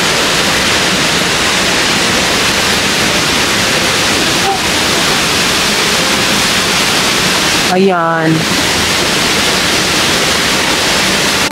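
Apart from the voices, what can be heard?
waterfall at Tagnoty Falls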